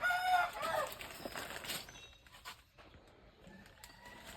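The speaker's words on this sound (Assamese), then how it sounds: "এইয়া মই এই মুৰ্গী দুটা লৈ গৈছোঁ" Two chickens being carried cluck and squawk close by, loudest at the start and then settling into softer, scattered clucks against a quiet background.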